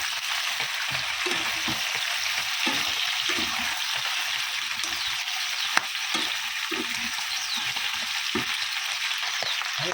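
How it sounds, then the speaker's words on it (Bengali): Onion, garlic, ginger and five or six chillies fry in a pan with a steady, even sizzle. A low, soft rumble of stirring runs underneath, and no one speaks. "তারপরে পেঁয়াজ রসুন আদা একটু কষে দেবো, 5-6 লঙ্কা দিয়ে।"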